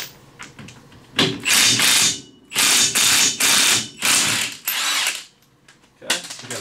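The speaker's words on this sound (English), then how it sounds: "this is a 27 millimeter socket. Takes the axle nut off." Ratchet with a 27 mm socket turning a RZR side-by-side's axle nut, a series of loud close whirring clicking bursts separated by short pauses, with faint background noise.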